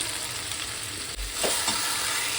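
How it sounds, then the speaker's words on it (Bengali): Fried jackfruit and potatoes stirred into a spiced tomato masala in a pan, a low continuous sizzle with a soft thud and scraping stir partway through. "একসাথে মশলা দিয়ে আরেকটু সময় ধরে কষিয়ে নেব"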